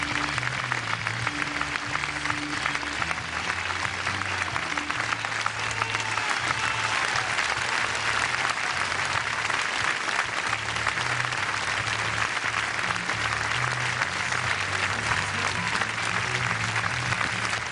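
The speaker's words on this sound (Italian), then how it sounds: "Che bello sentire questo applauso." Applause at Marco Simoncelli's funeral, a large crowd clapping loudly and continuously for a long stretch, with a low musical tone running underneath.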